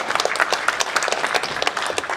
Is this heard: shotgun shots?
no